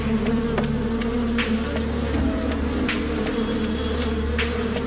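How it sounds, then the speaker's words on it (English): A steady, close buzzing of many bees hums without pause, dense and even, with no voices. "the bees would need to start stinging to make the other bees aggressive"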